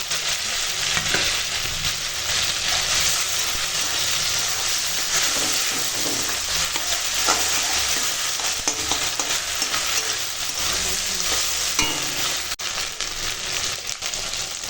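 Ginger garlic paste hits hot oil in a kadai after bay leaf and fried fritters, giving a loud, dense, continuous sizzle that holds steady, with faint stirring scrapes underneath.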